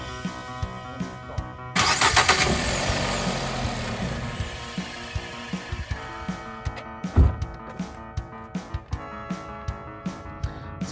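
Starter on a 2009 Nissan Versa cranks as the key turns, a loud whirring grind lasting about five seconds before cutting out, followed by quiet ticking and clicks.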